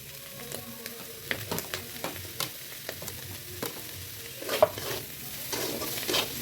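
Blanched cauliflower and broccoli are stir-fried in a pan for chow mein, a soft frying hiss broken by repeated scraping and clattering strokes of a utensil stirring the vegetables, fairly quiet and close.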